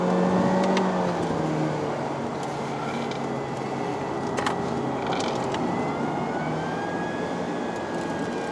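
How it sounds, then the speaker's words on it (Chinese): A 2021 Honda Civic FC facelift with a 1.5 turbo engine and CVT gearbox climbs a steep mountain road in Malaysia. It gives a steady, continuous engine drone with a whine that slowly rises, heard from inside the car with no talking. "听到 CVT 的声音了"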